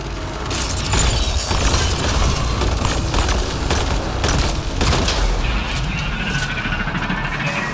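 Sustained rapid gunfire and explosive bursts from the video game Mass Effect: Andromeda, loud and dense throughout with overlapping shots and booms.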